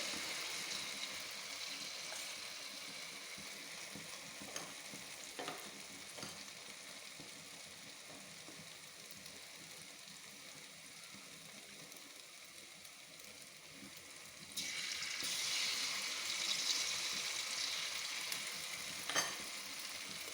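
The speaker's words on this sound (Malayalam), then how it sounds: "ഇങ്ങനെ എടുത്തു നമുക്ക് എണ്ണയ്ക്കകത്തേക്ക് ഇടാം" Sukhiyan, sweet fried dumplings, fry in a small amount of hot oil with a faint, steady bubbling sizzle that grows louder and brighter near the end, close by and with no voices.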